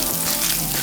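Tomato purée sizzles in a frying pan with half an onion softened in a spoonful of oil, a steady close hiss with no talk over it.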